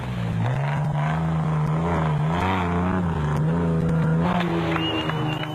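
Off-road race vehicles run at the 2002 Toyota Dealer off-road race at Sun City, South Africa, with a loud, sustained engine drone that rises and falls as revs change.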